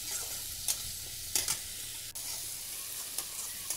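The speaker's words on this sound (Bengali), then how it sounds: "আমি এখানে এখন আরেকটু ভালো করে লাড়াচাড়া করবো, মশলাটা কষাবো।" Spice paste frying in a pan for a Bengali mustard and eggplant bata fish dish, with a constant close sizzle and hiss broken by several scraping stir strokes.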